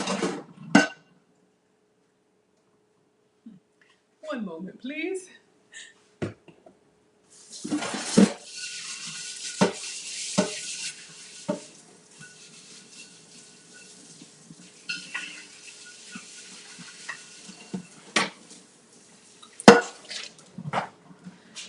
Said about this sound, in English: I have a small skillet in here. I'm going to wash it by hand.